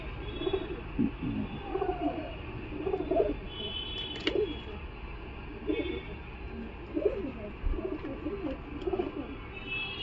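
Fancy pigeons at a Galiff Street bird market coo in soft, low, repeated phrases, several birds close by in an ongoing murmur with occasional brief chirps and background noise.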